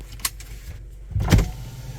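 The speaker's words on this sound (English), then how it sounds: "Oh, the windows work." An electric power window motor whirs inside an orange Element, a short rising hum with a soft thump near the end, heard up close over low cabin rumble with no talking.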